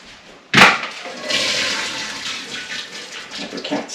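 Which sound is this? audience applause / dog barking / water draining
water draining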